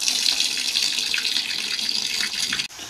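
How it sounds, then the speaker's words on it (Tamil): Tap water runs steadily into a container for washing clothes, a continuous splashing rush that ends with a brief knock near the finish. "பாத்தீங்கன்னா தண்ணி பிடிக்குது பாப்பா."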